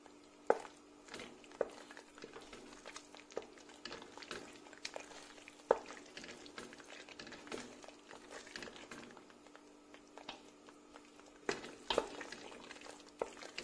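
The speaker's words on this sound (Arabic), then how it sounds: "ونبدا نحرك ونقليها بالكدا حتى نشوفها تقلت" Tunisian mloukhia powder being stirred and fried in a pot over low heat, with soft scraping strokes and a faint steady sizzle, punctuated by occasional sharper clinks of the spoon against the pot, close and quiet.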